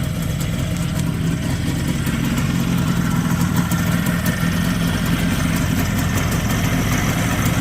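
A two-stroke Izh Jupiter 5 motorcycle engine fitted with Suzuki TS185 pistons idles steadily nearby, a continuous low rattling putter with no voices.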